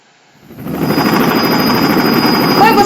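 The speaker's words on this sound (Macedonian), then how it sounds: "Така е, хеликоптерот." A helicopter's rotor thumps swell out of near silence into a loud, steady, rapid chop that holds until the end, with no one speaking.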